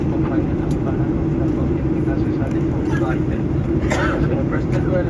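Steady cabin drone of a Malaysia Airlines Boeing 737-800 descending toward Singapore Changi, a constant broadband engine and airflow roar heard from inside, with faint clinks and soft voices in the background.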